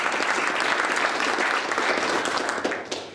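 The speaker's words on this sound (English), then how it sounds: "So give them a big round of applause." An audience at a STEM ecosystem gathering in San Antonio breaks into sustained applause, full and even, easing off slightly toward the end.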